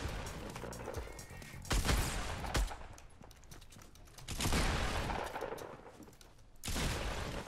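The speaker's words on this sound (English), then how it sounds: "this is one way that I like to use these new bombs" Bombs and gunfire in a Fortnite match, several bursts of rapid shots and blasts separated by quieter gaps, fairly faint overall.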